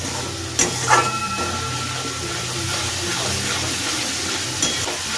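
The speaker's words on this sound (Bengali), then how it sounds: "এই আমি দিয়ে দিলাম, ভালো করে মশলাটা কষিয়ে নেবো।" Spice masala sizzles and is stirred in a pan for potato dum, a steady close frying hiss with a few scraping stirs near the start.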